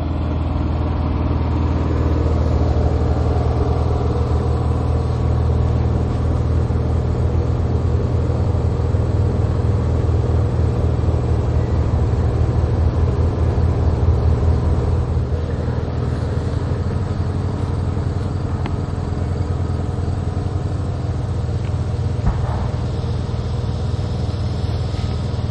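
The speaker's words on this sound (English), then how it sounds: "Have a real nice generator running this stuff" A generator runs outdoors in a yard during an oxalic acid mite treatment of beehives, a loud, steady engine drone with a constant low hum that holds unchanged throughout.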